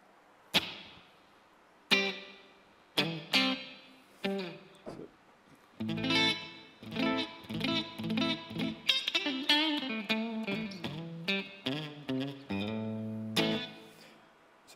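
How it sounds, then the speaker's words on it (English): Electric guitar through a Boss GT-1000 reverb effect: chords and single notes ring out with a spacious reverb tail, played in separate strums with short pauses between phrases. "So there's your reverb."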